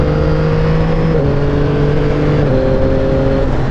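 A Yamaha XSR900 motorcycle engine revs loudly and close, steady tonal drone stepping up in pitch through quickshifted gear changes as it accelerates.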